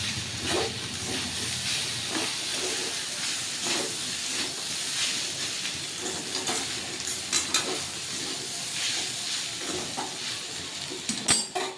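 Spaghetti stirred in a hot pan, with steady sizzling and frying hiss under soft scraping strokes and occasional light clinks of a utensil against the pan.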